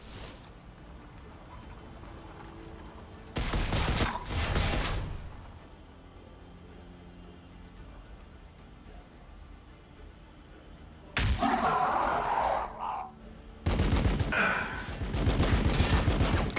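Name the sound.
gunfire from video game Warhammer 40k BattleSector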